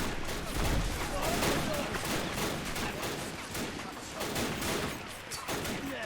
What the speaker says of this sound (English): More grenades are being used here to clear out the trenches.